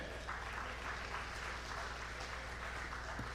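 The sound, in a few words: audience applause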